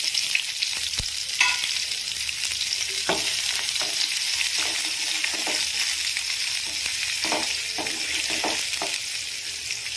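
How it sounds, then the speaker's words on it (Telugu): Onion and green chillies frying in hot oil for a mutton liver curry, with a steady loud sizzle running throughout and occasional soft scrapes of a spoon, no voices. "ఆనియన్ ఇలా కొంచెం ఫ్రై అయిన తర్వాత"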